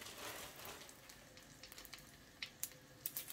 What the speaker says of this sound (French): Mais je pense qu'il vaut mieux les cuire à la poêle rapidement pour que le chocolat à l'intérieur il ne crame pas.